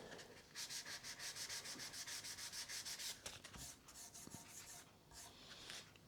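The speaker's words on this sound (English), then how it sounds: "So I'm going to just see if I can have a quick sand at that" Sandpaper rubs by hand across a Flying V guitar body's finish in quick, rhythmic back-and-forth strokes, close and fairly quiet, pausing briefly before a few looser strokes.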